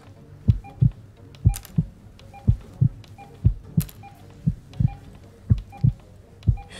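Heartbeat of a patient in the surgery video game Surgeon Simulator, steady paired low thumps repeating about every second, clear and close over a faint hum, with a few soft electronic blips between beats.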